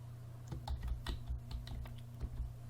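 Typing on a computer keyboard during a Cricut tutorial, a quiet irregular patter of key clicks over a steady low hum, close and unaccompanied by talk.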